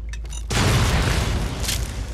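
Plasma mine explosion in Fallout 3: a couple of faint clicks, then a loud, sudden booming blast that rumbles on and slowly fades.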